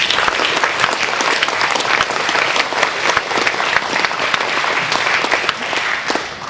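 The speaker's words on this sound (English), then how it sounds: "Let's give another round of applause for our speakers so far." Loud, dense applause from an audience at an oral presentation night on a college campus, sustained at an even level throughout as a crowd claps for the speakers.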